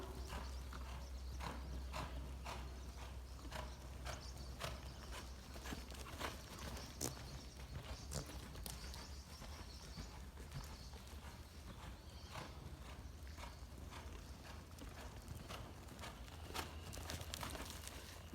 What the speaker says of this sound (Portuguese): O cavalo.